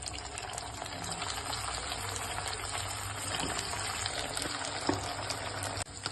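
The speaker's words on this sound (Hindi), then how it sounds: "तो हम अब दोबारा फ्राई करेंगे।" Kachalu (taro) pieces fry in hot oil with a dense, continuous bubbling hiss that stays steady and close for several seconds, without speech.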